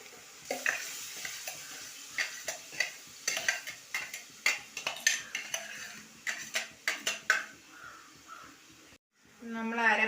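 A spoon scrapes and stirs ground curry paste into crab curry in a pan, giving repeated close knocks and scrapes over a soft sizzle, followed by a short pause.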